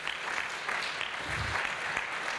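Conference audience applause at a French talk on capitalism, a steady, even wash of many hands clapping throughout with no break.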